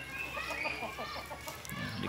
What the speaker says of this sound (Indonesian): ayamnya yang habis pada kenyang makan nasi, sekarang malah makanin rumput